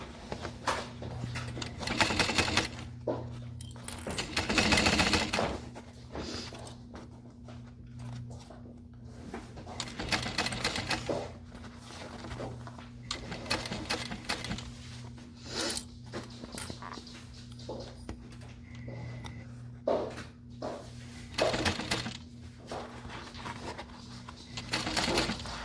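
Sewing machine stitching an Isolina garment in bursts of rapid mechanical chatter separated by pauses, with a steady low hum throughout, close and moderately loud.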